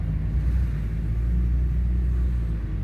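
Peugeot 106 on a test drive after axle repair, heard as a steady low engine and road rumble from inside the cabin, continuous and even with no talk.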